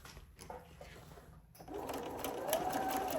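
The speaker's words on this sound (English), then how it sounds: "we're gonna stitch it and stop at that 1/4 inch right there" A sewing machine stitches a fabric seam up to a quarter-inch stopping point while piecing a partial seam. After a brief quiet start, a steady close mechanical whirr runs without pause to the end.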